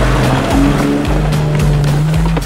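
Audi with a 3-litre petrol V6 and automatic gearbox, on new summer tyres with a small 5 cm lift, driving off-road: a steady, loud engine drone with rising and shifting tones throughout, no talk.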